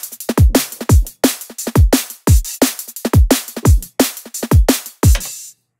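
Layered synthesized drum pattern built in Kilohearts Phase Plant, punchy kicks with fast pitch drops and bright snare and hat hits in a steady driving groove, loud and up front with no talking.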